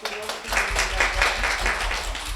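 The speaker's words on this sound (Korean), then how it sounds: "박수로 환영해 주시기 바랍니다" Students in a university special-lecture room applaud to welcome the guest lecturer, a continuous, even wash of many clapping hands.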